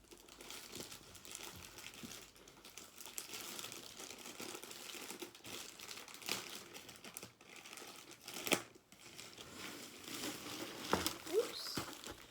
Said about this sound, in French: c'est parti pour le déballage de la toile.